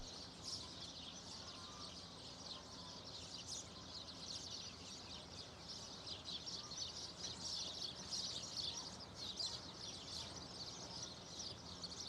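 Birds chirp and twitter continuously across a quiet open landscape, a steady chorus of small calls at moderate distance with no speech.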